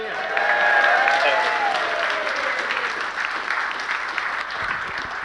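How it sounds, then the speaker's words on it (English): Applause and cheering rise from a room of diners at an amateur radio association's AGM dinner, loud at first and slowly fading, with a few whistles near the start. "How about a big cheer from the people in the room?"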